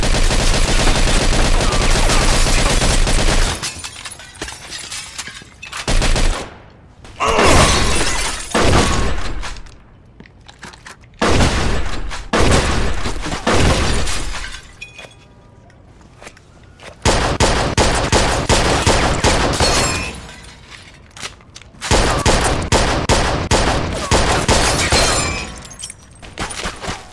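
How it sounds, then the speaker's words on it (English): Loud bursts of gunfire in Mafia II, rapid automatic volleys and sharp shots that come in clusters separated by short lulls, with booms and breaking-glass crashes mixed in and no talk. "Shoot this asshole!"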